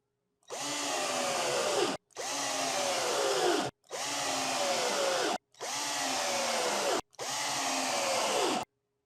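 A Ridgid cordless drill driving screws in five bursts, each about a second and a half long with brief gaps between, its whining motor loud and close, the pitch rising and falling within each burst.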